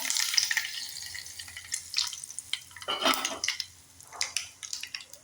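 Sharp crackles and pops of mustard seeds spluttering in hot oil for a tempering with curry leaves, mixed with metallic clinks of a lid or utensil, irregular and close.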